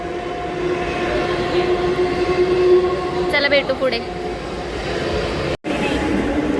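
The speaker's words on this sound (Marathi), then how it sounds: "आता आमची ट्रेन आली आहे" Train rumbling into a Mumbai station toward Chembur, a loud, continuous rolling roar with a tonal whine and brief screech partway through, a person speaking briefly over it.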